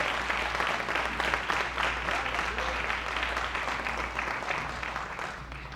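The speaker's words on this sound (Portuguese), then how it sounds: "Pode aplaudir nosso Deus" Applause from a church congregation praising God during a sermon, a dense steady wash of clapping over a low hum, sustained and fairly loud throughout.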